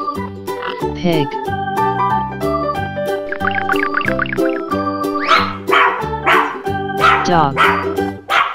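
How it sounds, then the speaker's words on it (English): Dog barks ring out over a cheerful, rhythmic children's song, the yapping growing busier toward the end above the steady beat. "Dog."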